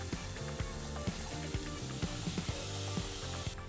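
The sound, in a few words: chopped onions and garlic frying in olive oil in saucepan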